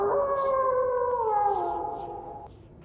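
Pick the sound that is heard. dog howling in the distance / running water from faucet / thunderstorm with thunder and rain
dog howling in the distance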